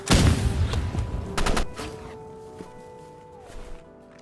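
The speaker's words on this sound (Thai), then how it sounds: "เอา RPG มายิงอ่ะ โดน RPG ไป" Roblox Rivals game combat opens with a loud burst of rapid gunfire and an RPG blast, then a few more shots fade into quieter tones and a faint late pop.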